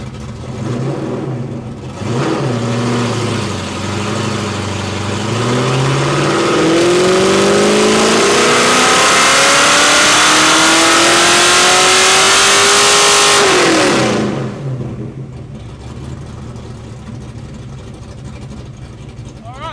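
Foxbody Mustang engine on a dynamometer during a full pull: a loud rising rev climbing steadily for several seconds to a roaring peak, then cutting off abruptly and dropping back to a lower idle-like drone.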